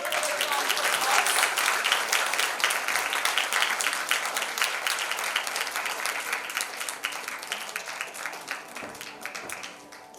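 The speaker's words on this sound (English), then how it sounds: "give everyone a big round of applause." Sustained applause from a panel discussion audience at a digital content summit, dense and loud at first, then slowly thinning and fading toward the end.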